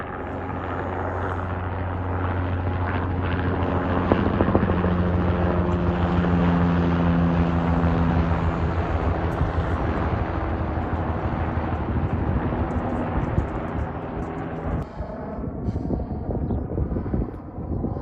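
Aircraft engine drone from a police aircraft circling overhead, a continuous rumbling hum that swells and fades slightly as it passes, heard alone without speech.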